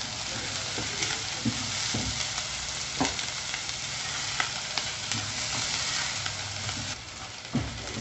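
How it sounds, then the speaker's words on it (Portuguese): Minced garlic and a piece of bell pepper sautéing in a pan for a creamy hot dog sauce, a steady close sizzle with occasional stirring clicks and scrapes throughout. "Vou adicionar 2 dentes de alho picadinho e 1 pedaço de pimentão. Aqui deu 30 gramas, tá? De pimentão, que nós vamos refogar por 1 minutinho."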